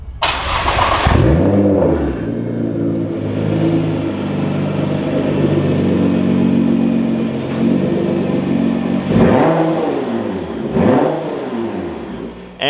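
A Nissan GTR engine cranks and fires, settles into a loud idle and low rumbling as it rolls into a garage, then gives a couple of sharp revs near the end, close and alone.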